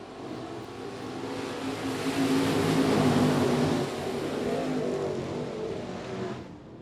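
IMCA Modified race cars roaring around the I-37 Speedway track at the DTK Memorial, a loud continuous engine drone that swells in the middle and eases slightly toward the end, with no talk.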